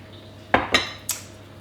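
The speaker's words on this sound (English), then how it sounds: "Give it a good stir." A spoon scrapes and clinks against a bowl while carrot cake mixture is stirred, giving three sharp knocks in quick succession over a quiet background.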